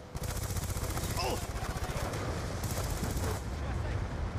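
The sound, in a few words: gunfire in video game Call of Duty Black Ops 2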